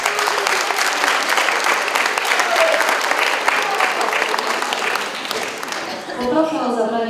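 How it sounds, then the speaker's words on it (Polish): Audience applauding at a senior citizens' day evening event, loud sustained clapping filling the hall, with voices and cheering mixed in and a brief voice near the end. "Wielkie brawa!"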